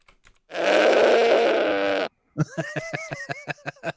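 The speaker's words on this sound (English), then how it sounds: "goat, the goat" A goat lets out one long, loud, raspy bleat, then after a brief pause a series of quick, stuttering bleat pulses follows, alone without talk.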